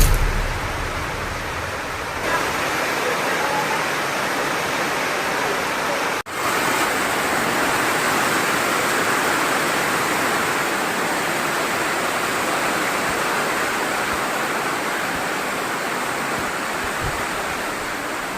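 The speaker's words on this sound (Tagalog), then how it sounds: "At sa hindi inasahan, biglang umulan." Sudden heavy rain pours down outdoors, a loud, steady broadband hiss that holds without a break from start to finish.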